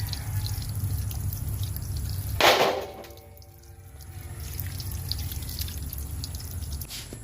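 Hot water is poured over pili nuts in a container for making pili oil, a brief splashing pour followed by quieter settling and faint trickling, close by with a low background hum.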